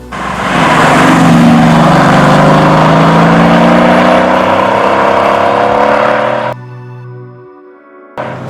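A Mercedes-AMG GT S sports car engine revs hard and loud, pitch climbing and holding, then cuts off abruptly and winds down, with a brief blip at the end.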